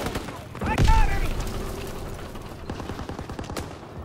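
Game gunfire and explosions from Call of Duty: WWII multiplayer war combat, a loud burst near the start followed by scattered shots and rumbling under shouted talk.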